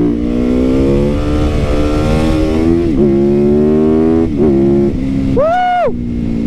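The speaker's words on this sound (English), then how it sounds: "I love ripping that throttle, baby" A motorcycle engine revs hard as the throttle is opened, climbing through several surging pulls with brief dips between gear changes and ending in a sharp rising-and-falling blip, loud and close.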